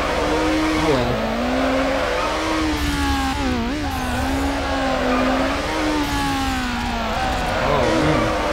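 A Honda Civic races in Need For Speed Underground, its engine whining loudly and continuously as the pitch climbs and dips through gear changes, with occasional voice underneath.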